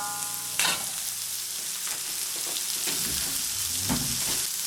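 Vegetables frying in garlic and butter in a pan while being stirred for a veggie stir fry: a steady close sizzle with scattered scrapes and knocks of the utensil, no talking.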